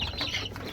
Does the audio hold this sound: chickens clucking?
yes